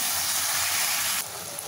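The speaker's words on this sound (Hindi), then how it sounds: "बिल्कुल उसी तरह से जो है हमने कद्दू को ऑयल में फ्राई करना है।" Chunks of pumpkin deep-frying in hot oil, cooked the way french fries are: a steady, close hiss and sizzle that drops a little in level partway through.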